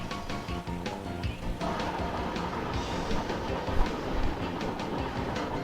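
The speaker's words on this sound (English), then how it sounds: "We've got a pair of coal trains that are waiting, one in a line." Coal trains in the railway simulation game Chris Sawyer's Locomotion rumble with steady clickety-clack of wagons over rails, a dense continuous rolling noise with occasional louder clanks, no voices.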